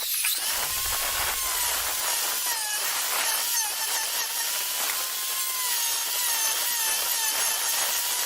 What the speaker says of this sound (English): That tool sounds like a drill.